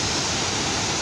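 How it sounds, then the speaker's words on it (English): Waterfall at Rock Island State Park in Tennessee, a loud, steady broadband roar of falling water filling the whole moment with no break. "Down the beautiful waterfall."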